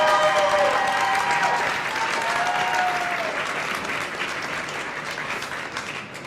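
Crowd applause for Italy's competitor at the 2015 World Brewers Cup, a sustained loud wash of clapping with a few whoops and cheers at the start, gradually easing off over several seconds.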